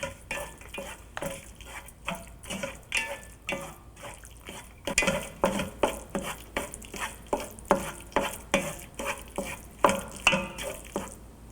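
Tomatoes and cashews being sautéed in a pan for butter chicken, with rhythmic repeated stirring scrapes of a spoon against the pan over a soft sizzle, close and steady, no one speaking.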